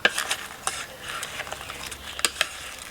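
Fried egg with runny yolk stirred into a spicy Thai salad dressing with shrimp, heard as close, repeated wet stirring and scraping with sharp clinks of a spoon against a bowl.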